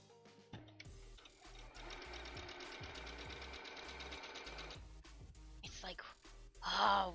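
A sewing machine runs in a fast, even stitching rhythm for several seconds, then slows and stops. A breathy voice sound follows near the end.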